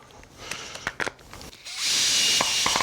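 A few light knocks and taps, then a cordless drill with a number 5 bit whirs steadily into wood, close and loud, for about a second.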